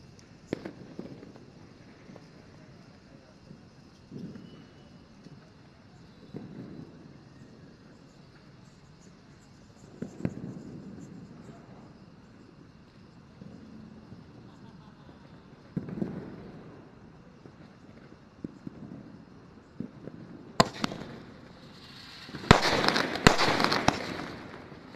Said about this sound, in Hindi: क्रेजी व्हील्स अजंता का, चलिए ये 9 शॉट है, इसको जला के देखते हैं कि ये क्रेजी व्हील्स कैसे चलते हैं।